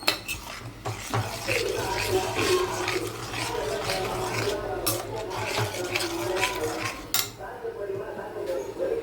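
Water being poured into a pot of egg gravy on a home stove, heard as continuous splashing and sloshing with clinks of a metal pan and utensil throughout, fairly close and steady, no talk.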